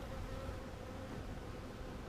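Honeybees hum at an opened hive on a farm during an inspection, a soft, continuous buzzing drone with steady outdoor noise and no voices.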